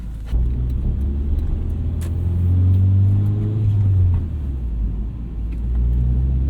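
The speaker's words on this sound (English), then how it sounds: "Nice little belt squeal on startup." A manual 2001 first-generation Honda CR-V starts up and idles loudly, its engine rumble rising and falling steadily with harmonic tones that could be a brief belt squeal, no talk present.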